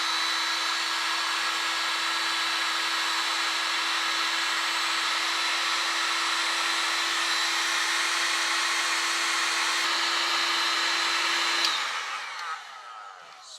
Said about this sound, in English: So I'm going to heat shrink these and then tape it